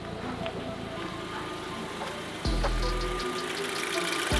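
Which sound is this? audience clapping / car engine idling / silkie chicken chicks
car engine idling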